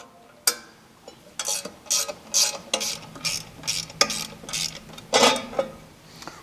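A 7/16 wrench ratcheting on the bolts of a motor access cover on PowerHold shoe replacement equipment, a sharp metal clank followed by a series of close, rhythmic metallic ratchet clicks.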